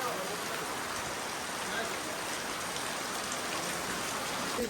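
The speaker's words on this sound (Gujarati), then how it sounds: "તો મિત્રો હજી વરસાદ આવે છે" Steady rain pours down in a constant, even hiss that never lets up.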